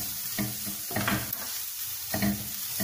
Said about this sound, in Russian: и сюда мы выкладываем все приправы. Тоже прогреваем.